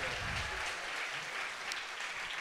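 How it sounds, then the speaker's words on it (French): An audience applauds a pair of guests on a French talk show, a steady wash of dense clapping throughout, moderately distant and uniform. "On les applaudit. Plus fort !"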